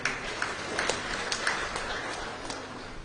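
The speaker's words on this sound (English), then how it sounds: "Let's clap for them again" Applause from a congregation at a Catholic requiem mass in a shrine, heard as a steady wash of many hands clapping throughout, moderately distant and even, with a few louder individual claps standing out.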